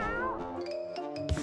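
A cat gives a single drawn-out meow that glides and fades, close and fairly clear, followed by a short bump of other sound near the end.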